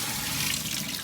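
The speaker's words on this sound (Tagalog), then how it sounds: "Inaalis na lang natin yung tubig." Water pours out of a cooking pot into a sink as a loud, steady splashing rush that fills the short moment without any voices.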